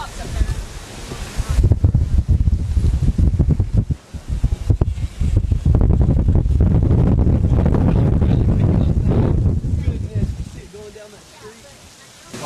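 Hurricane Gustav's wind roars and buffets the microphone in loud, continuous gusts, with a brief lull partway through, then fades toward the end.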